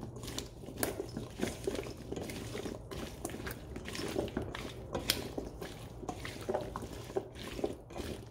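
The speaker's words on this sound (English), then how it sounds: "we're gonna mix to coat all of them evenly" Sweet potato pieces seasoned with pepper are tossed and stirred in a mixing bowl, giving a steady run of soft clinks, scrapes and wet shuffling taps at close range with no talking.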